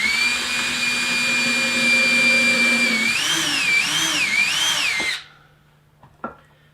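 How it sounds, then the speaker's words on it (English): A power drill bores two holes into the wood corner of a hanging plant stand, its motor whine steady and close, wavering as the bit bites in, then stopping abruptly around five seconds, followed by a few faint knocks. "I'm just going to drill out 2 holes and make sure everything is lined up here on the corner first"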